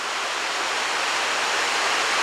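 The River Severn rushes beneath the stone bridge with its original brick arch at Aberbechan, a loud, steady, unbroken wash of flowing water with no other sounds.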